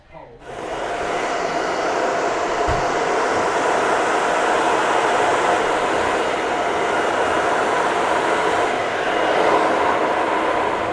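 A hair dryer blows continuously while drying freshly cut hair in a salon, a steady, close, whooshing roar that starts abruptly and holds at an even level throughout.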